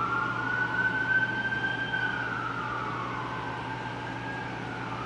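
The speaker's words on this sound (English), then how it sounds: "Oh, there are some sirens." Emergency vehicle sirens wailing at a distance, a steady rising and falling tone lasting throughout, faint over a low background hum with no talking.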